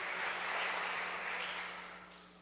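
A burst of crowd applause, dense clapping that swells and then gradually tapers off.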